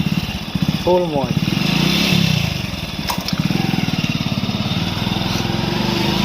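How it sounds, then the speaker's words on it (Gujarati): A motorbike being ridden on a village road, its engine chugging steadily and close with rhythmic low pulsing and wind noise, while someone talks briefly over it. "આપણા હિતેશભાઈ બાઇક ચલાવી રહ્યા છે"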